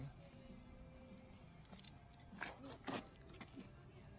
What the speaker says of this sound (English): As you make your cut, you'll be able to peel away.